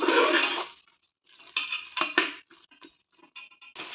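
A spoon scrapes and clatters around a cooking pan while masala for chicken biryani is stirred, giving short uneven bursts of metallic scraping and knocking separated by brief pauses, close and fairly loud.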